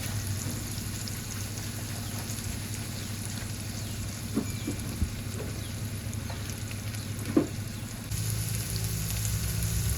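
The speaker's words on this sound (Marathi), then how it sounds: "कांदा मऊ होईपर्यंत परतून घेऊया." Onions softening in a pan with browned crushed garlic for spring onion bhaji, giving a steady close sizzle with a few light stirring knocks and a louder frying hiss toward the end.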